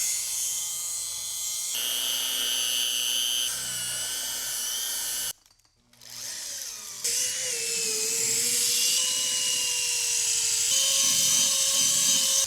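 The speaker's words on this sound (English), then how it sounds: "I've got a fully powered 3-inch polisher, no battery" A corded 3-inch electric car polisher runs with a high, steady motor whine close by, shifting pitch as it works, cutting out briefly midway, then spinning back up and running on with a wavering tone.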